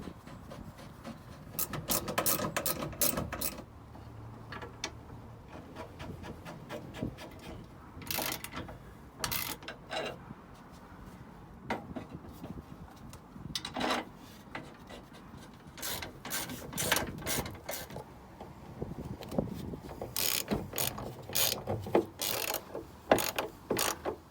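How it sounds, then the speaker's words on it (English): A hand ratchet works on the rear suspension bolts of a Ford, giving bursts of quick clicking strokes separated by short pauses, faint and close by, along with some scraping and rubbing of metal parts. "These ones can be torqued now to 48 Newton meters."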